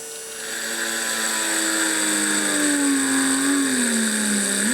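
An Innocraftsman mini drill press motor runs at high speed, giving a loud, steady whine that swells in at the start, then wavers and dips in pitch before rising sharply at the end. No one talks.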